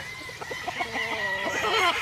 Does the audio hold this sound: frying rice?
no